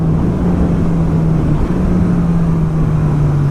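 A Honda CB1000R Plus motorcycle fitted with a new Termignoni GP2R exhaust holds a steady, loud, close engine drone with a constant low hum and no pauses.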